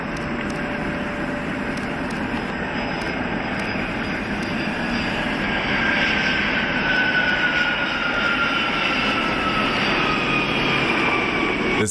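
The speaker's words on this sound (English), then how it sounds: "This Boeing 767 almost had a tail strike." A Boeing 767 jet airliner at an air show in Slovakia passes low overhead, its engines producing a loud, continuous roar that builds slightly in the second half.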